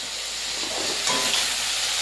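Ginger paste, cumin and chili powder fry in hot oil in a pan, a loud, steady sizzle and hiss that swells slightly partway through, close and continuous.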